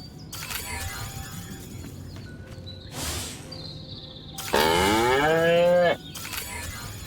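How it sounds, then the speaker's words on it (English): A cartoonish cow moos in the Destroy All Humans! video game, a long, loud harmonic bellow lasting over a second, with a shorter lowing sound before it and game ambience and effects around it. "Again with the moo."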